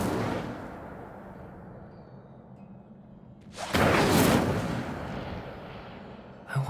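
A fire spell cast in the Hogwarts Legacy video game, heard as a sudden loud whooshing burst with a crackling roar that rises sharply and slowly fades over a steady low ambient bed.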